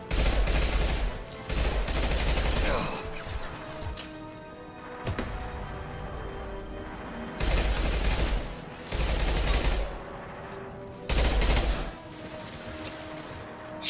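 Sci-fi gunfire in Mass Effect 2 rattles in repeated loud bursts of rapid shots separated by short quieter gaps, close and dense throughout.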